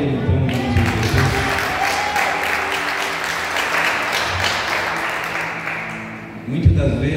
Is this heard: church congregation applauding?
yes